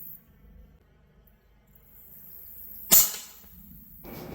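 A single sharp crack from a PCP .25 caliber air rifle firing a heavy Apollo slug rings out near the middle, loud and close, with quiet room tone before and after.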